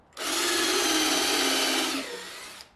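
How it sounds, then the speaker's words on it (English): A power drill bores a hole through plywood in one steady, loud whir lasting about two seconds, then winds down and stops, alone with no talk. "And then drill the next hole."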